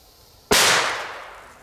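A single sharp, loud firecracker bang after a moment of quiet, its crackling echo decaying over the next second.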